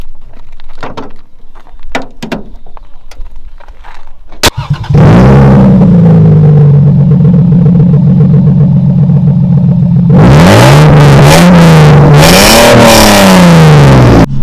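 A Lexus fitted with a swapped 2JZ engine, heard after a few thumps and a hood slam: it starts and idles loud and close, then revs in sharp rising and falling bursts.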